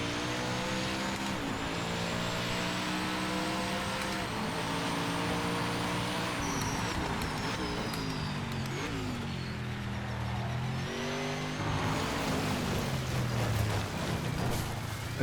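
An LMP race car in Project Motor Racing drives a lap, its engine note climbing and dropping through repeated upshifts and downshifts, loud and close with steady road roar and no talk.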